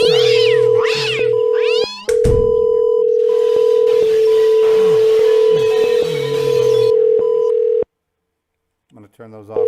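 A cat meows repeatedly in drawn-out, rising cries close by, over a steady electronic tone, then goes quiet before a few softer sounds at the end.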